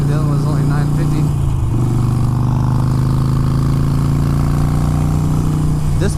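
A 1200 cc motorcycle engine with a loud exhaust idles steadily and close, a constant deep throbbing rumble with no revving, while someone talks over it.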